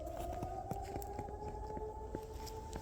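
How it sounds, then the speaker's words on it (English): A siren wails steadily in the distance, its tone slowly rising, with scattered faint thumps and background noise. "Whose siren is going off?"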